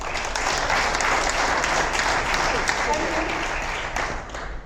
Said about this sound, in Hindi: मेरे लाइव्स के लिए भी आप तालियां बजा सकते हैं